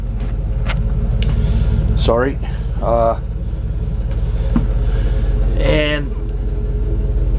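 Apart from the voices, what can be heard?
small air compressor engine running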